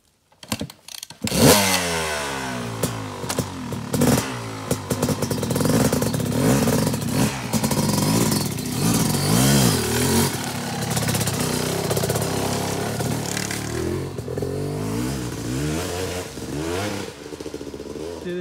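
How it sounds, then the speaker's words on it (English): A Yamaha YZ250X dirt bike coughs through a few short bursts, then catches and revs loud and near, its pitch rising and falling in repeated throttle blips. "Nothing like a YZ250."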